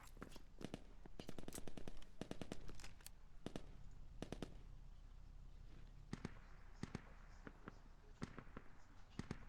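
Video game firefight with bursts of sharp gunshots, rapid clustered cracks early, then sparser single shots spread out, fairly loud over a background hiss.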